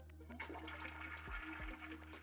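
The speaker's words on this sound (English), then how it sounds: "After the toilet has been used, the control system flushes fully automatically" A Villeroy & Boch ProActive Plus toilet flushes automatically, rushing water swirling steadily near the microphone with a couple of low gurgles as the bowl drains.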